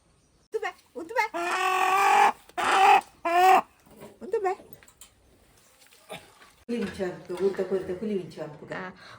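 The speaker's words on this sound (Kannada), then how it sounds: "ಕೋಳಿ ಹಿಡಿಲಿಕ್ಕೆ ಬಂದಿದ್ದಾರೆ." A village native chicken clucking and squawking in loud agitated bursts as it is caught for Mangalore-style cooking, the calls coming close and repeated, with people talking around it.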